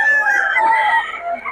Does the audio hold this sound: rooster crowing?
yes